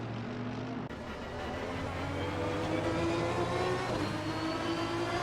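Race car engine in a racing video game during a six-hour endurance race at Kyalami, a loud continuous high-revving roar that builds after a brief shift early on and holds steady.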